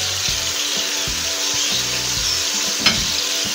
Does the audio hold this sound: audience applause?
no